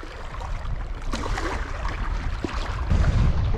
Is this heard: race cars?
no